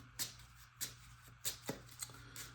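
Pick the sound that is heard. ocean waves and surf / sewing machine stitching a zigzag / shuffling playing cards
shuffling playing cards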